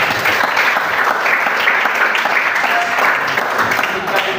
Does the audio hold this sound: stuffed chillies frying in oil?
no